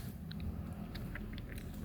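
Soft biting and chewing of a plain surabi rice pancake, a traditional Kuningan street snack with a soft centre and slightly crisp edges, heard as quiet close mouth sounds and small crunches over a low background rumble.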